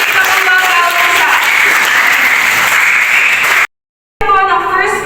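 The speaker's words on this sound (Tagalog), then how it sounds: "Pwede po ba malakas na palakpak sa ating Diyos na buhay?" Loud, sustained applause from a church congregation praising God fills the hall, cutting out abruptly for a moment of silence before resuming at full strength.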